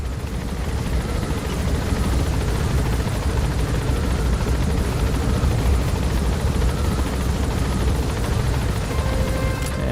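Steady loud helicopter rotor drone in Metal Gear Solid V: The Phantom Pain continues throughout, with a faint musical tone from a cassette tape playing through the helicopter's speakers layered underneath.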